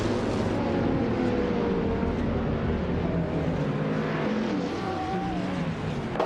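Race cars in a video game, led by a 2001 Cadillac Northstar LMP from pole position: a steady, loud, continuous engine roar with shifting pitches as several cars run together, no pauses and no talking.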